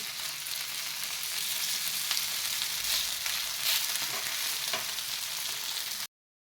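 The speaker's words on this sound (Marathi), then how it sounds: "मी हे रोल दोन्ही बाजूंनी छान असे भाजून घेतले आहेत" Cabbage leaf rolls shallow-frying in oil, a steady close hiss and crackle of sizzling that runs unbroken for about six seconds and then cuts to silence, with no voices.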